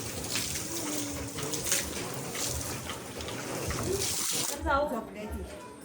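A tap runs in a steady rushing stream, filling a container, then cuts off near the end while a voice talks over it.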